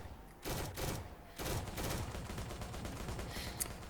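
Gunfire in the Roblox Zombies Kino map: dense, loud bursts of rapid shots in quick succession, with a brief gap near the start before a sustained volley continues throughout, no talk over it.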